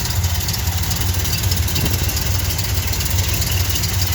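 A 1970 Ford F250 engine idles after a cold start, a loud, close, steady rumble with an uneven low pulsing throb throughout and no voices.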